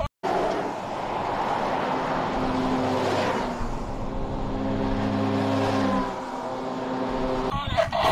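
A battery toy army car is switched on and gives out a loud, steady engine-like whir and revving drone. The sound runs for several seconds and ends with a click, and a voice speaks faintly underneath.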